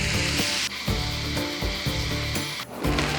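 Glutinous rice frying in a pan, a dense steady sizzle with rhythmic scraping strokes from stirring against the pan, close and continuous throughout.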